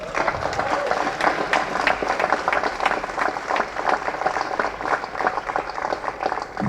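A large audience at a film first-look unveiling event in Chennai claps steadily, a dense and sustained wash of applause that stays loud and fairly close throughout.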